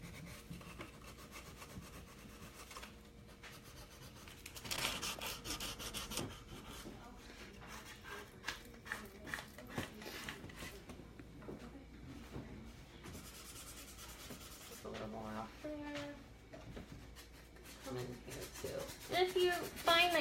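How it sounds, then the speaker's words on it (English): Sandpaper rubbing along the edges and corners of painted wooden furniture to distress the finish, a close, scratchy back-and-forth rasp that comes in uneven bursts, with soft handling knocks and occasional talk. "we're just taking a little bit of sandpaper here"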